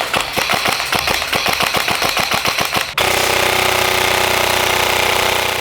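Airsoft M4 AEG rifle fires a rapid full-auto burst of sharp, evenly spaced cracks for about three seconds, then gives way to a loud, steady mechanical whir and rattle.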